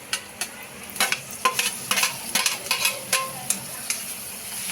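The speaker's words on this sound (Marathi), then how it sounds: "टोमॅटो पण छान मिक्स होऊ द्यायचं." Tomatoes are stirred into onions fried in butter for pav bhaji: a steady sizzle under a rhythmic series of close spatula taps and scrapes against the pan.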